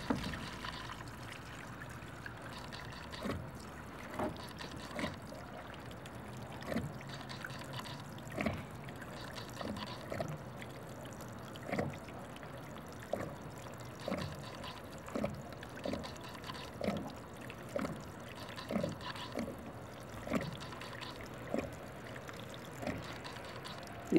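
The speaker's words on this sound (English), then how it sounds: "continuing to drain the water from that defective 5-year-old Versadock double-size float" Water trickles and drips as it drains out of a defective five-year-old Versadock double-size plastic dock float with internal baffles, a steady low wash punctuated by regular soft splashes, fairly faint and without talk.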